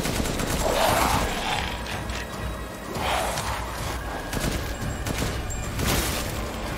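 Gunfire and weapon reloading in the video game Resident Evil Village, heavy bursts of shots at intervals alternating with mechanical clicks and clacks of reloading, moderately loud against game ambience.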